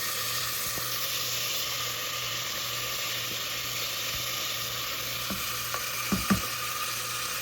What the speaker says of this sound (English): Now I add the green chilies and ginger garlic paste.